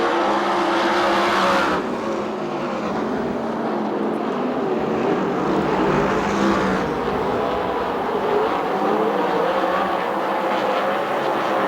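USAC/CRA sprint cars roar around the Perris track during a heat race, a dense, loud engine wash that swells and shifts as cars pass, with no talk.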